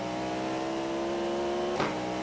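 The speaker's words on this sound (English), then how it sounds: "This is quite distracting because the engine noise is incredibly loud in my ears" Race car engine in the iRacing simulator during an IMSA Open race, a loud steady whine with harmonic tones that rises into a brief burst near the end.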